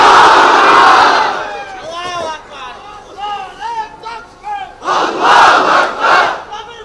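A large crowd at a religious rally in Faridpur roars the takbir chant in unison, a loud massed shout, then the voice of a single speaker on a loudspeaker, followed by another swelling collective cry.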